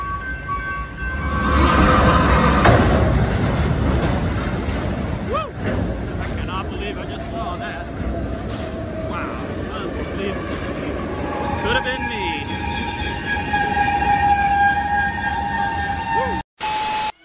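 A train rumbles past a level crossing at close range with a loud rushing roar, sustained tones and squeals over it, and a voice speaking underneath.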